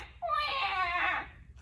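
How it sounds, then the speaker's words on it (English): A short, wailing cry like a baby's, rising and held for about a second, fairly close, over a quiet background hum. "What do you think that sound is? A baby."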